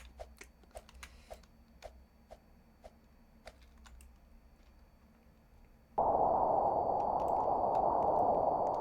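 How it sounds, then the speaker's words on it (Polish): Computer keyboard keys are tapped in a sparse, irregular run of close, crisp clicks over a faint hum during a Roblox Natural Disaster session, then a loud, steady wind-like game roar abruptly takes over. "Sorry za klawiaturę, jak ją słychać"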